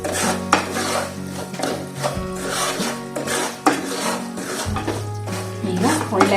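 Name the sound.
stirring and roasting chiroti rava semolina in a pan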